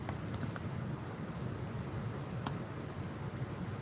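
Computer keyboard typing, quiet rapid key clicks with a few sharper taps, set against a steady low background hum.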